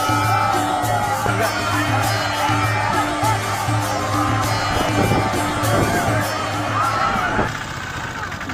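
A large crowd of devotees at a Kalash Yatra procession near the Chakri Dham ashram keeps up a loud, continuous din of voices and cheering, with vehicle engine noise mixed into the outdoor hubbub.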